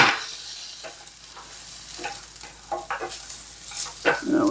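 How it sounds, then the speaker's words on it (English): Plantains frying in oil in a pan, a constant bright sizzle with repeated scraping stirs and clinks from the utensil, close and alone with no talk. "Now we're just going to keep stirring that up."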